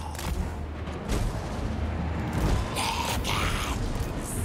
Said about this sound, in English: the flame cannon is just straight up wrecking us